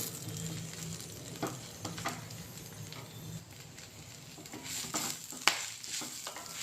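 Ingredients for a drumstick leaves dal sizzle and fry in a pan, a steady crackling hiss broken by occasional scrapes and stirring knocks, close and alone with no talk.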